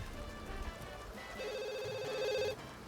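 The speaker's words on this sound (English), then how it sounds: "the phone was just ringing off the hook" In The Sims 2, a game telephone rings in a repeated electronic trill during a storm, with soft rain-like noise underneath and the ringing growing louder before cutting off.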